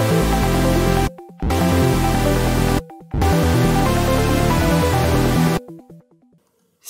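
Synth chord stacks blare as thick, loud sustained chords, cut by abrupt gated pauses before a final chord fades out.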